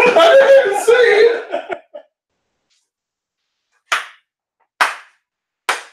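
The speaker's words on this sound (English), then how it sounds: "Slow clap for that one" Three slow, evenly spaced hand claps ring out alone after a stretch of talking, each sharp and close with a long gap between, a deliberate slow clap.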